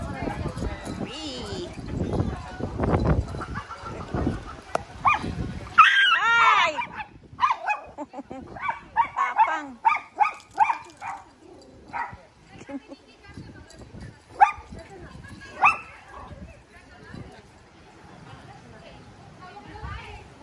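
Several dogs bark intermittently at a lively dog party, short sharp barks scattered across the scene, some close and loud, with people talking throughout.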